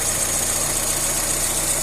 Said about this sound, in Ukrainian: Закручуємо Збіднюємо суміш, суміш бідна, двигун починає трусити і глохнути.